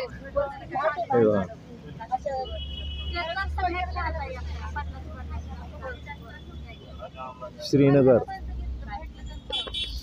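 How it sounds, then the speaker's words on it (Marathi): A car drives through Srinagar, the capital of Jammu and Kashmir, heard from inside the cabin: a steady low engine and road rumble runs throughout beneath someone talking. "ही आपली गाडी आहे. हे गाडीतले आपण सगळे पाहत आहोत."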